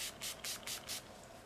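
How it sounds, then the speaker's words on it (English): NYX setting spray misted onto a face, heard as five quick, close pumps of a fine spray in a soft, even rhythm, alone with no talking. "I'm gonna spray my face with this NYX setting spray again."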